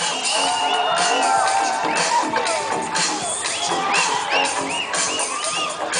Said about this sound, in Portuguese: Eu quero ver o grito da galera.